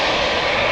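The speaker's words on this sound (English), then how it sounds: "this is KLM flight 597 going to Cape Town in South Africa" A KLM Boeing 787-9 at Amsterdam Schiphol Airport gives off a loud, steady, broadband engine roar, close and unbroken through the brief moment, with no talking.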